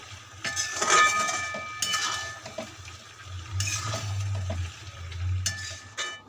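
A spoon scrapes and clinks against a pan while ghee, garam masala and kasuri methi are mixed into a soybean curry, with irregular stirring strokes over a soft, low sizzle.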